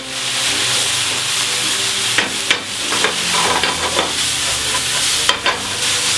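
Pork stuffing sweating in butter in a hot pan, with a steady broad sizzle and hiss and several sharp scrapes and taps of a utensil stirring, close and fairly loud.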